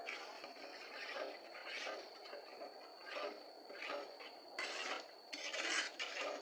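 Curry is stir-fried in a pan, the spatula scraping in repeated rasping strokes that grow louder and quicker toward the end, with no talking.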